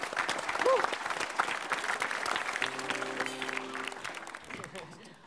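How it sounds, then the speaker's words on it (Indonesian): Studio audience applause on an Indonesian TV comedy show, a burst of many hands clapping that fades toward the end, with voices and a short musical tone mixed in underneath. "Beri tepuk tangan dulu."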